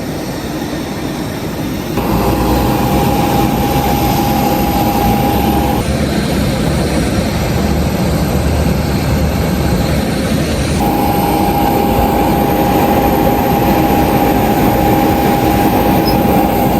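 A loud, steady aircraft cabin drone with a constant high whine that fades and returns, and no one talking.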